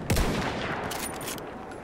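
Rapid machine gun fire crackles in dense, continuous bursts amid a busy battlefield din in Battlefield 1, loud and sustained throughout.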